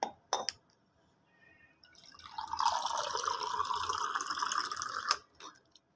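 Water poured from a jug or bottle into a drinking glass after eating spicy noodles, a steady gurgling pour lasting about three seconds, close and clear, bracketed by a few light clinks of glass.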